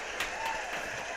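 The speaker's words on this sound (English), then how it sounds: "he's putting his own applause" A canned applause sound effect played during an online comedy show, a short, uniform wash of clapping at moderate level with no voices over it.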